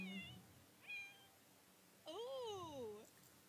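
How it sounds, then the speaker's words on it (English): A cat in The Sims 4 Cats and Dogs meows twice, a short high call and then a longer, louder wavering meow, with faint game sounds beneath. "Should we ask the cat what's wrong?"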